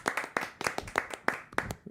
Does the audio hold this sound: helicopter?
no